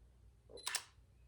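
One quick mechanical shutter click from a camera taking a picture, close and crisp, in an otherwise quiet room.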